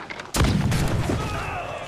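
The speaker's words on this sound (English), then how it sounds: "Get onto the swivel gun. Onto the swivel gun. Our mighty swivel gun." A ship's swivel gun fires in the naval combat of Assassin's Creed 4: Black Flag, one sudden loud, close boom followed by a long, rumbling decay.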